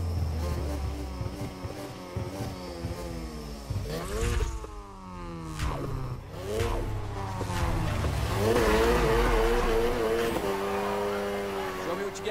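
A car drifting in Need for Speed Heat, engine revving in rising and falling sweeps while tires squeal through the slides, loud and close, with game music and voice lines mixed in.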